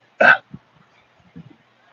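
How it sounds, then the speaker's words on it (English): One short, abrupt burp from a person, close and loud, followed by a few faint throat and mouth sounds in otherwise quiet surroundings. "I'm burping."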